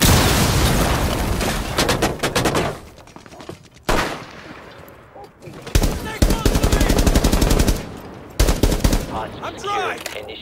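Gunfire in the tactical shooter Rainbow Six Siege: loud, close bursts of automatic fire and heavy booming shots in repeated clusters with short pauses between.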